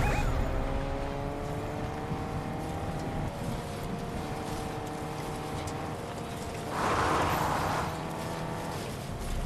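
A car in the video game Fortnite gives a steady engine drone with shifting pitch, fairly quiet, and a brief burst of rougher noise near the end.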